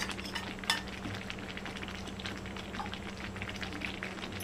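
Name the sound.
ghee added and stirred into moong dal halwa, sizzling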